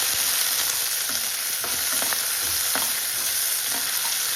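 Chopped onions browning in hot oil for a moong-masoor dal tempering, a steady, loud sizzle with scattered sharp scraping taps as they are stirred, nearby with no voices.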